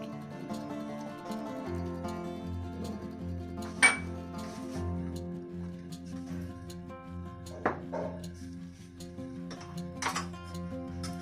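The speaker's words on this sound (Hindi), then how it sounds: "चूल्हे के ऊपर मैंने देचकी रख दी है और इसमें मैं हाफ प्याली ऑयल डाल दूंगी।" A degchi cooking pot set down on a kitchen stove with oil poured in, a few distinct metallic clanks and clinks standing out over a quiet humming background, with no talk.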